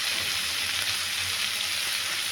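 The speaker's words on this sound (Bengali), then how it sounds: "পটল বেগুন ভাজা হচ্ছে।" Pointed gourd and eggplant frying in a pan for Bengali spinach chorchori, giving a steady, close hiss of sizzling oil with no pauses.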